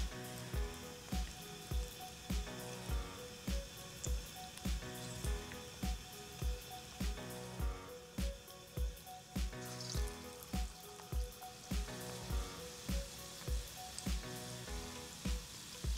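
Aloo tikki frying in oil in a pan, a continuous bright sizzle with regular low thumps recurring roughly every half second throughout, fairly quiet and with no voices.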